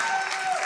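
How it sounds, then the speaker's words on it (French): A brief burst of dense applause from an audience, steady and fairly loud. "Est-ce qu'on peut applaudir tout le monde?"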